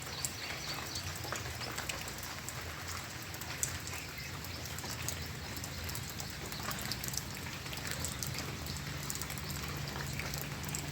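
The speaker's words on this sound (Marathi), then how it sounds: "आम्हाला कालपासून एवढासा टिपटिप का होईना पाऊस आहे" Light drizzle falling outside a village home, a faint, even patter and hiss of scattered raindrops that stays constant throughout with no voices.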